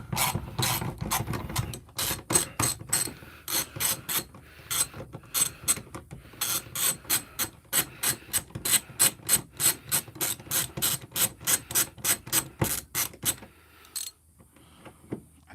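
A socket ratchet loosens hooks on a van with long runs of steady, rhythmic pawl clicks, close and clear, pausing briefly before resuming and ending in near quiet.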